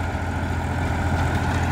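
Massey Ferguson 245 DI 50 hp tractor running in low first gear in a field, its diesel engine a steady loud low rumble throughout with no talking.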